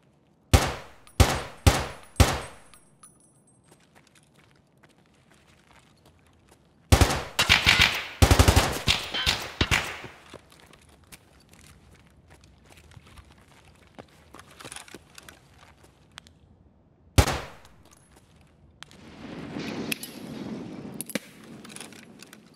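Escape From Tarkov gunfire cracks out loud and close in clear bursts: a quick run of four or five single shots, then a rapid automatic volley, a lone later shot, and quieter scattered distant fire between.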